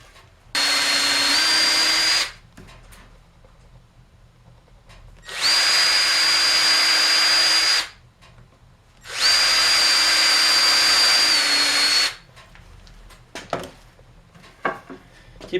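Power drill boring holes into an oak board for a barrel head, three loud bursts of a few seconds each separated by pauses, followed by light knocks and handling noises.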